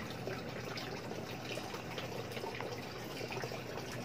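Water pours steadily from a newly unboxed submersible water pump, a constant close-up gushing and splashing with no pauses.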